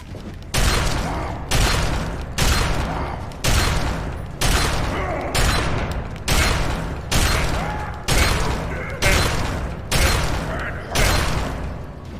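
A shotgun fires repeatedly in the video game Fallout 3, about ten loud booming blasts in a steady rhythm roughly one second apart, each with a short mechanical tail.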